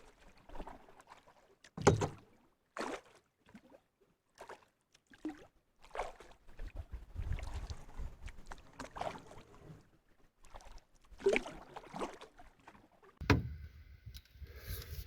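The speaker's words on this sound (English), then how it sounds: "I'm just going to pick up the canoe" A canoe lifted from the water to be carried over a portage on a lake in Temagami: scattered knocks, hollow thumps and scrapes of the hull, with water splashes between them and a loud bump near the end, and no talk.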